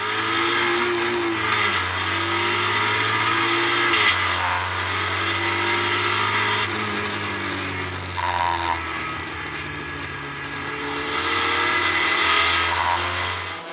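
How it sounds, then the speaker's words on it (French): Porsche race cars, led by the number 69, and rival cars including a Ginetta accelerate hard off the start at Circuit Zolder, a loud sustained roar of several engines with rising and shifting pitches. "avec un remarquable envol de la Porsche numéro 69, désormais entre les mains de Jo Lammens"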